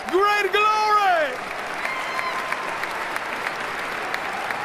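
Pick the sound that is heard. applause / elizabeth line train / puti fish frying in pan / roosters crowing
applause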